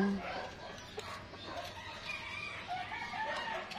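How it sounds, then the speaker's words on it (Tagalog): Small bantam chickens in a home compound clucking and calling at a moderate distance over steady outdoor background noise, with a brief vocal note near the start. "mayroon din kaming mga manok na bantam"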